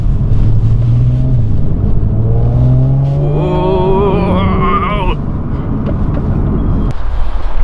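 Audi car being driven, heard from inside as a loud, steady road and engine drone with rising, whining tones as it accelerates. Faint voices are audible underneath.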